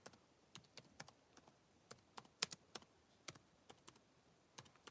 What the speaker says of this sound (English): Let me type something in